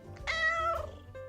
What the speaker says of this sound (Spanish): Gatito, tú no has oído nada